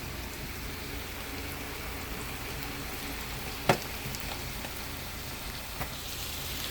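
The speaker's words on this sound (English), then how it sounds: "you can look and see that water is boiling." Water at a rolling boil in a tall wok frying pan makes a steady, close bubbling hiss throughout, with one sharp knock partway through and a fainter one near the end.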